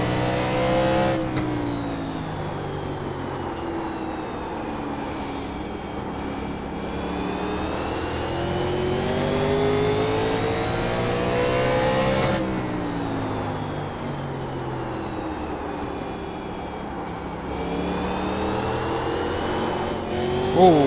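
Race car engines from 1987 NASCAR Legends cars at Martinsville in the iRacing sim drone loudly and continuously, with rising and falling revs as the cars brake and accelerate through the corners and several cars run close together.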